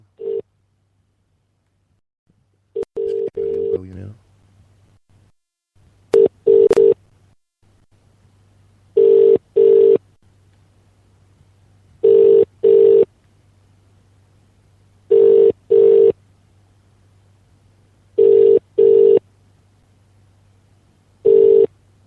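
Telephone call to Vodafone voicemail: a brief dial tone and keypad beeps, then a steady ringback pattern of paired tone bursts repeating about every three seconds over a low hum, clear and close, with no talking.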